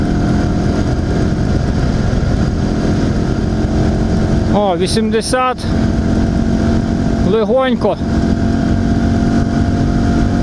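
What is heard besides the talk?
IZh Planeta 5 motorcycle engine on test ride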